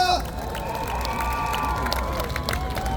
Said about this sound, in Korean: 우리 김준세 청년 여러분 큰 박수로 맞아주십시오